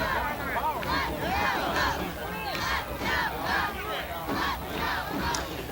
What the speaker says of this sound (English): Got the Let's Go Oaks chant going here.